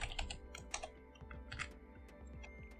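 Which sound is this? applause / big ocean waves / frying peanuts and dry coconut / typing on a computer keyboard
typing on a computer keyboard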